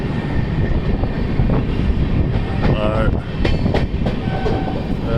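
An Indian Railways train rolls along its tracks, a steady loud rumble with rhythmic clickety-clack and rattling carriages throughout, heard from on board, with a brief voice over the noise.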